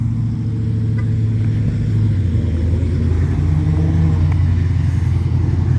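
Mopar race cars idling together before a race day run, a loud, steady low rumble of big engines holding close and continuous throughout.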